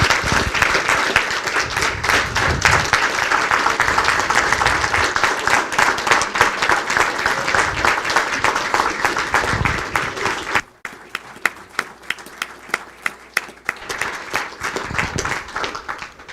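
A school board meeting audience gives a long, loud round of applause, many hands clapping densely for about ten seconds before thinning to a few scattered claps and quieter room sound.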